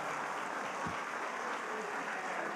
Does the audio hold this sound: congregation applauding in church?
yes